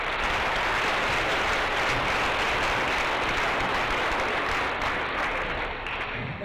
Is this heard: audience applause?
yes